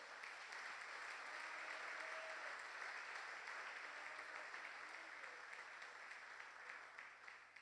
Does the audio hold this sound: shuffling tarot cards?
no